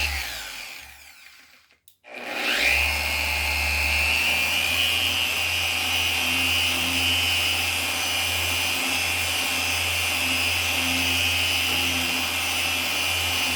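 Power polishing wheel buffing a guitar headstock faceplate: after a brief pause it spins up into a steady, loud whirring drone with a high tonal whine, holding constant for about ten seconds with no talk.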